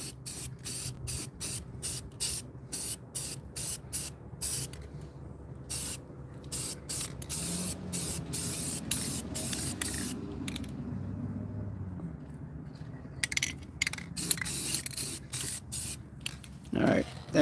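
Aerosol spray paint hissing in repeated short bursts onto a bare 5.3 LS V8 engine block, close by, with brief pauses between passes and some mechanical clatter underneath.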